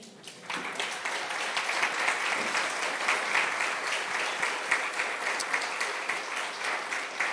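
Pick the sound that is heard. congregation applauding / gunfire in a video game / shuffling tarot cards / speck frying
congregation applauding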